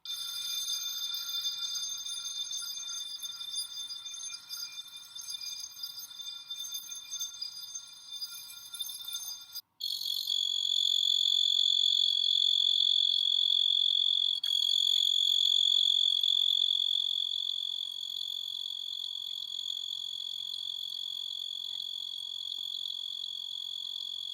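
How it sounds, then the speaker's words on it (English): Continuous high-pitched ringing trill of a tiny pine tree cricket, Oecanthus pini, steady and loud, with a brief break partway through before resuming even stronger. "The tiny pine tree cricket"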